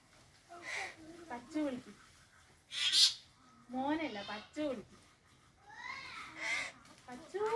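A parrot lets out a few harsh, raspy squawks between bursts of close human speech, with people coaxing and chattering around it.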